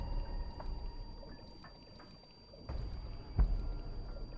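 Watery ambience in a flooded, fully underwater room in a video game, a low continuous wash and rumble with soft splashy swells and a brief sharper burst near the end, alone with no voices.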